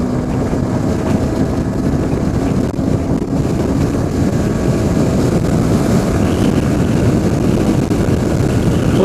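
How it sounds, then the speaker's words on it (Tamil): A Yamaha R15 V3 BS6 motorcycle held at full throttle in a high gear during a top-speed run, a loud continuous engine drone mixed with heavy rushing wind buffeting the microphone. "50 கியரில் ஃபுல் த்ராட்டில் நான் லாக் பண்ணிட்டேன்."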